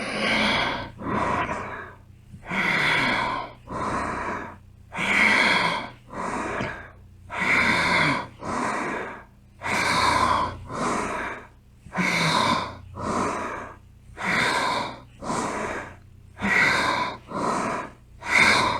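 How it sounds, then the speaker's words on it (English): Deep rhythmic yoga breathing in a Kundalini session, audible inhales and exhales alternating steadily about once a second, close and clear with no talking. "Inhale up, exhale back."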